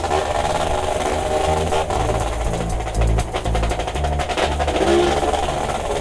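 Loud, raspy exhaust from a Vespino moped drones continuously up close, with rattling clatter and small surges in revs and pitch, no talking over it.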